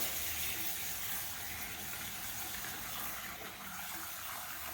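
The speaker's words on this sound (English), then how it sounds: "I'm just going to add a little bit of water into my wash bucket" Water runs into a car wash bucket in a steady soft gush and hiss, quiet and continuous throughout with no speech.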